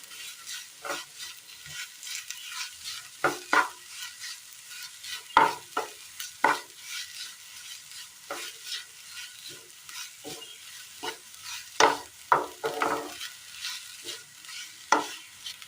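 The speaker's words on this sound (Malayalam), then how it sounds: "നാല് വെളുത്തുള്ളി ചതച്ചതും ചെറിയൊരു കഷ്ണം ഇഞ്ചി ചതച്ചതും ഇട്ട് കൊടുത്ത് നന്നായി ഒന്ന് ഇളക്കിയെടുക്കാം" Crushed garlic and ginger fry in a pan with a soft, steady sizzle, broken up by sharp scraping clicks of stirring that come at irregular intervals, close by and with no talking.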